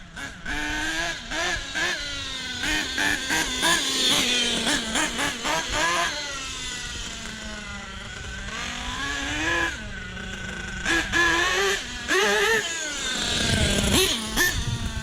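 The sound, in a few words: small engine revving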